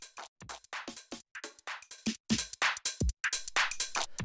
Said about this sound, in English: Here's with no processing on the percussion group.